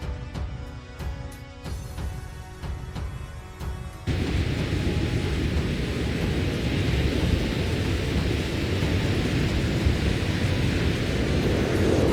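A heavy thunderstorm with pouring rain and strong wind, a dense continuous roar that grows louder and fuller partway through, with no voices.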